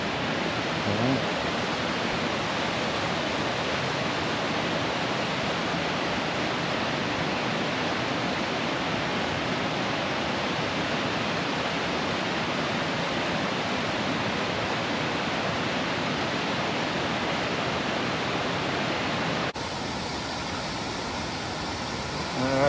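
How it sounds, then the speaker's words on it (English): Steady, dense roar of a waterfall pouring over a cliff edge in Yellowstone, heard close and loud without pause throughout. "It's a really cool waterfall though. Right on the edge of a cliff."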